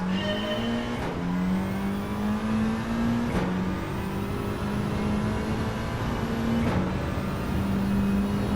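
A race car in Gran Turismo 7 drives a lap without ABS, its engine whining steadily with repeated sharp dips and shifts as it brakes and accelerates, loud and continuous with no talking.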